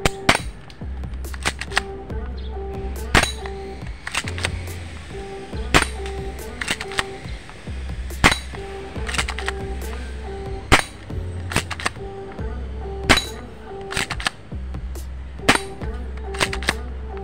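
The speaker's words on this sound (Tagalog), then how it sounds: "Ito test fire na natin." A K117D Beretta replica pistol is test fired repeatedly, producing sharp, fairly quiet snapping shots in irregular succession, with low mechanical humming between some of the shots and no talking.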